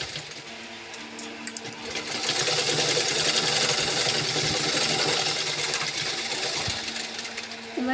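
Sewing machine stitching a cloth bag runs steadily and close for most of the stretch, a whirring mechanical drone building after a brief start, with faint background sounds.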